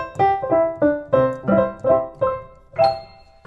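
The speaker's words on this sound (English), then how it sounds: "It's huge, a kind of brighter upright sound." A Roland LX15 digital upright piano on its bright upright piano voice plays a sequence of ringing chords and notes at a steady pace, close and clear with no talking.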